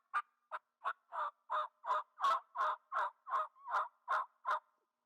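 Turkey mouth call with cut latex reeds gives a run of thirteen raspy yelps in a steady rhythm. It is close and clear, swells in the middle and tapers at the end, with no talking.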